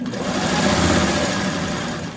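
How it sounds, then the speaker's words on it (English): A sewing machine stitching quilt block strips together runs in a continuous, close, steady mechanical whir with a fast rhythmic patter throughout, with no talk. "we'll sew these together just like this, and we'll get another finished strip"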